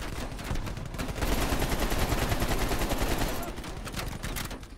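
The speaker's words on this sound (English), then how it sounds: "How are you just standing there when bullets are flying, bro?" Sustained rapid gunfire from a Call of Duty: Cold War campaign firefight, loud and dense for several seconds with bursts overlapping, easing slightly near the end.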